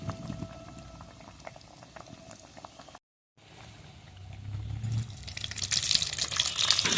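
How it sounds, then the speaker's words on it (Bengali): Fish cutlets made from bhola fish deep-fry in hot oil with a steady, bubbling sizzle that drops out briefly and then returns louder and brighter toward the end. "তা কাটলেট গুলো ভাজা চলছে এখনো"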